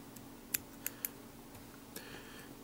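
Small scissors snip excess material at a fly-tying vise, producing three or four sharp, faint clicks spaced irregularly over a low steady room hum.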